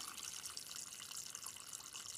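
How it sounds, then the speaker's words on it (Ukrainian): A garden hose pours water into a hole in greenhouse soil, giving a steady, soft gushing and trickling that stays faint and close throughout, with no voices. "це просто шланг з водою туди всунула в дирку і проливаю"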